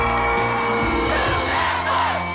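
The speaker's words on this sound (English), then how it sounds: "There are just so many people screaming and yelling and cheering." A large crowd screams, yells and cheers at a home makeover reveal, a loud continuous roar of overlapping whoops and shouts with music running underneath.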